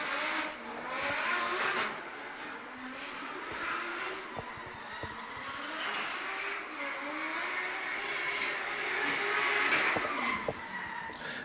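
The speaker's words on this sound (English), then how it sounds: "James Wynyard behind the wheel of that Nissan 180." A Nissan 180 drift car at a D1NZ drifting event in Tauranga, heard from a distance with sustained tire squeal and skidding and a rising and falling engine note.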